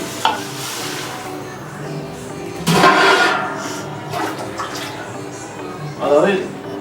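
Water splashes and pours into a large pot of rice and chicken for Salem-style basmati biryani, a few gushing surges between quieter stretches, with someone talking throughout.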